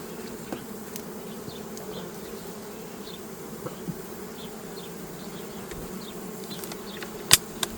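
Honeybees buzzing at an open beehive, a steady low drone of many insects throughout, with faint occasional clicks and a sharp tap near the end.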